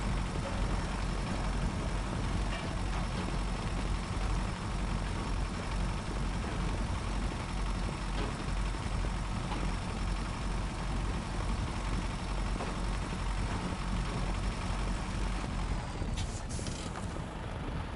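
A truck engine in SnowRunner runs at a steady low idle, a continuous mechanical rumble that cuts off near the end.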